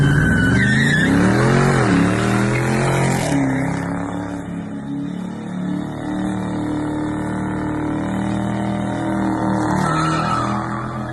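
A Ford Mustang revs hard and its tires squeal and skid continuously in loud, sweeping donut circles, the engine roaring throughout.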